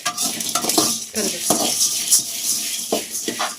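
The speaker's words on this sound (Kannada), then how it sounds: "ಹಿಂಗನ್ನು ಕೂಡ ಹಾಕ್ಕೊಂಡು ನೀಟಾಗಿ ಹುರ್ಕೋಬೇಕಾಗುತ್ತೆ" Spices for vangi bath powder dry-roasting with asafoetida in a pan, stirred with a utensil that scrapes and clinks against the metal in uneven strokes, close and moderately loud.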